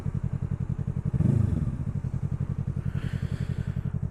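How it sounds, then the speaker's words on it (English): Yamaha R3 motorcycle under way, its engine a fast, even pulsing drone close to the microphone, with wind rush and brief rumbling thumps over the ride. "hopefully you guys hear the bike itself"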